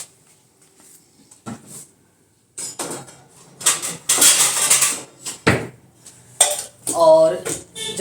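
A cooking pot being covered with its lid in a home kitchen, heard as clanking metal knocks and clinks of cookware in short bursts amid quieter handling noise, fairly close.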